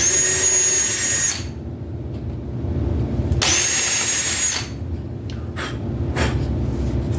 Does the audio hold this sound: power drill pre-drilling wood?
yes